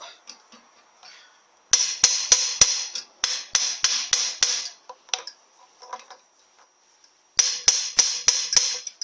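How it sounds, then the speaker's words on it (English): Metal universal joint and tailshaft yoke surfaces are tapped with a hammer to seat the parts: crisp, close metallic knocks in quick clusters of three to five, separated by short pauses, with no voices. "to just tap on all these surfaces just so everything sits back to exactly where it should be"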